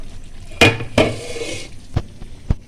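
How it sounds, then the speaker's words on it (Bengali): A lid lifted off a cooking pot of kola alu posto, a banana, potato and poppy-seed curry, giving two sharp metallic clanks close by, then a couple of lighter taps in a quiet kitchen. "এবার আমি ঢাকনাটা খুলে নিচ্ছি।"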